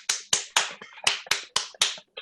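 A handful of sharp, separated claps, about eight evenly spaced hits over two seconds, bright and close, with no voices among them.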